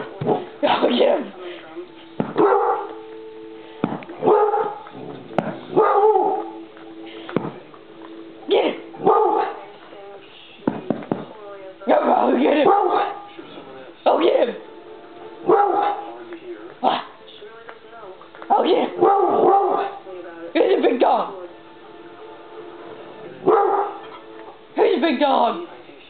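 A dog barks and yips in short bursts, close by and fairly loud, with a person talking excitedly over and between the barks.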